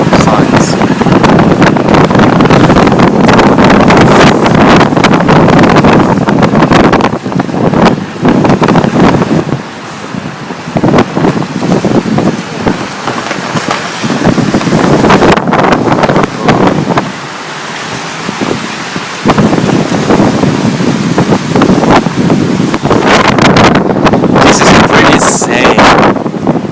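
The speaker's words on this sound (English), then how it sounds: "it's freaking windy." Strong, roaring typhoon wind buffets the microphone almost continuously in Tokyo, loud and gusty, with voices faintly audible underneath at times.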